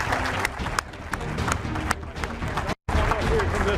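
Audience applause at the retirement event for Carolina Panthers players Greg Olsen and Thomas Davis, a dense roomful of clapping with crowd murmur and voices mixed in, cut by a brief dropout near the end.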